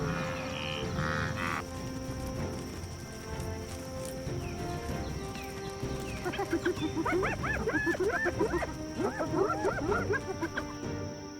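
African wild dogs give a burst of rapid, high-pitched yips and chittering calls in the second half, repeated in quick clusters over a steady outdoor background hum, with softer rustling and animal noises earlier.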